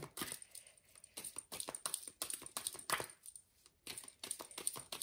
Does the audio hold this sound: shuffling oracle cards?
yes